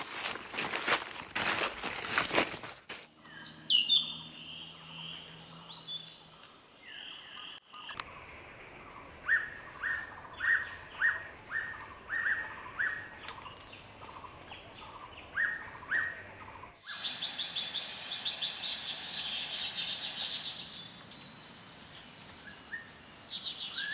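Birds in an Assam rainforest sing and chirp in repeated rhythmic phrases, with high trills and calls at moderate distance over a dense background of insect and frog noise.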